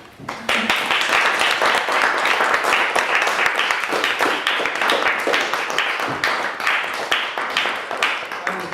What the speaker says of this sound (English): give Kevin Luigi a big applause